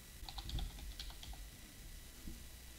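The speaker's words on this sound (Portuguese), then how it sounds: "Na barra de pesquisa você vai digitar PagSeguro." Fingers tap a computer keyboard, typing a short word into a search bar in quick bursts of light clicks followed by a pause, close and quiet with no talking.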